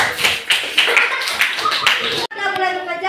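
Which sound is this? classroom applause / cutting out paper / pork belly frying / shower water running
classroom applause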